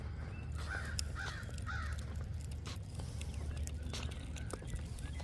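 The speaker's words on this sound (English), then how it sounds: "been a lot of crows around. You can hear them every now and then." Crows cawing around a garden: a quick run of three harsh caws early on, then fainter scattered calls, heard over a steady low rumble and soft footsteps during a walk outdoors.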